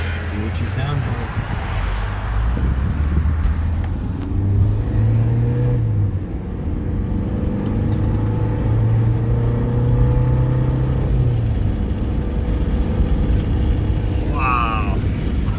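A high-mileage Honda Civic with over 200,000 miles drives and shifts gears after a transmission fluid change, a steady engine rumble rising and falling in pitch from inside the car, with no one talking.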